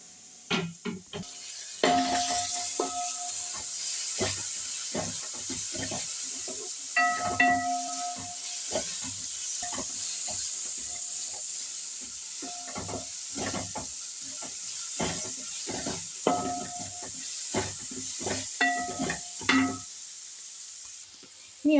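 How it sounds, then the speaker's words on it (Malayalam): Onions softening in a covered pan for chicken curry, giving a steady soft sizzle and steamy hiss, with frequent sharp clicks and scrapes of a utensil stirring against the pan. "അതിൽ ആവിയിൽ ഉള്ളി നല്ലപോലെ വഴണം."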